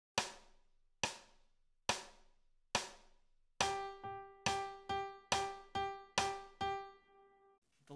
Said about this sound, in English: Eighth notes are two notes to a beat, and it sounds like this.